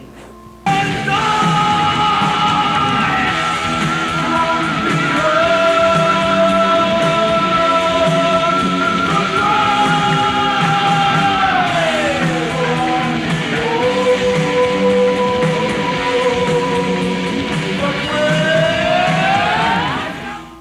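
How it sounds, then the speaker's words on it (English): A heavy metal record featuring a vocalist's high falsetto screams, long sustained wailing notes over loud, dense distorted instruments, continuous and close. "the falsetto screams from vocalist Glenn May sounding like a banshee screaming from beyond the grave"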